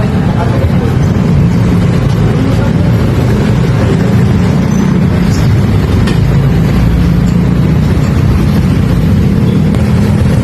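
A motorized tricycle engine drones loudly and steadily throughout, with constant road rumble, heard riding close up.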